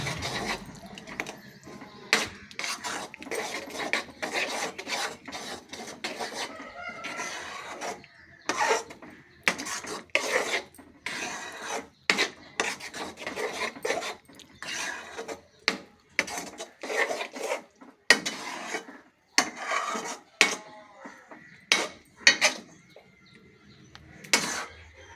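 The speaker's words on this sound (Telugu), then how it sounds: "కూర గోంగూరలో కలిపేస్తున్నానండి" A spoon scrapes and rasps against a pan, mixing chicken curry into gongura leaves, in repeated uneven strokes that are close and fairly quiet.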